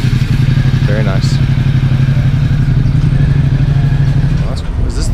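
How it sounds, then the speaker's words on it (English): Ducati XDiavolo motorcycle engine idling at a breakfast ride gathering, a steady close low rumble with occasional clatter and thuds alongside. "This is the Ducati diesel, the XDiavolo"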